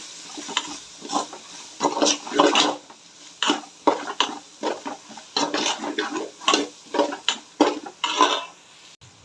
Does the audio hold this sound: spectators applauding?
no